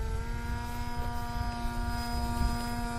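An FT Spear FPV RC plane flies at half throttle, its electric motor and propeller giving a steady, even whine with a slight rumble that holds constant throughout.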